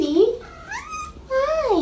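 A cat at a San Diego Humane Society shelter gives two drawn-out, rising and falling meows close up, over faint background noise.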